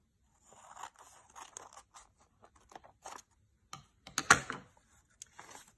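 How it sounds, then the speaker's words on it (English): Scissors cutting through folded paper for a miniature handmade book, a series of quiet, crisp snips and rustles in short irregular bursts with gaps between them. "you get your scissors and you're going to cut it up to the center section"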